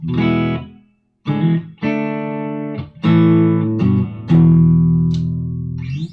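Sustained, ringing notes and chords on a 1984 Ovation Ultra GS acoustic-electric guitar with reverb, a sweet, slightly echoing tone, each phrase swelling and decaying in a slow, bluesy lead line.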